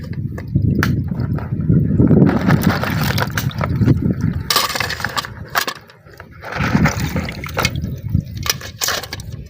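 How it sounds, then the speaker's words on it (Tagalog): Cleaned blue crabs being rinsed in water by hand, with sloshing, splashing and clattering shells, close and fairly loud, rising and falling over several seconds with no talking. "Nilinisan na pala ito ni Papa nung umuwi kami sa bahay mga ka-sisters kaya banlaw na lang sa tubig"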